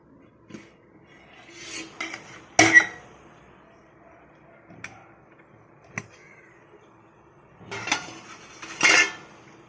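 Someone uncovers a pot of steamed bread pudding: sparse metallic clanks and scrapes of the lid and utensils ring out in short bursts amid near silence, with a louder cluster of clatters near the end.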